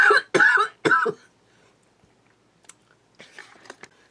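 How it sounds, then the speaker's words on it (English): A short burst of three harsh coughs in quick succession, close and loud, followed by quiet and a few faint clicks and rustles. "so I had a coughing fit there for a second."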